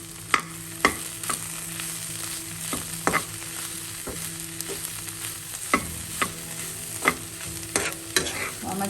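Papaya thoran being stirred in a pan, with a steady scrape of the spoon and sharp clacks at irregular intervals over a soft, continuous sizzle, close up and fairly quiet.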